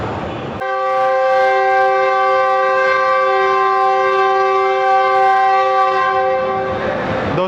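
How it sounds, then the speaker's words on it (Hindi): A GU20 locomotive sounds a loud, sustained departure horn at Lahore Junction, one long steady blast holding for about seven seconds after a brief lead-in. "डिपार्चर विसल हो गया है बड़ा ज़ोरदार GU20 लोकोमोटिव का"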